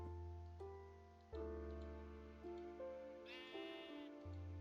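Sheep bleating in Minecraft, a sequence of several clear, tonal game bleats in quick succession with varying pitch, one higher call near the end, clean and fairly quiet with no talk.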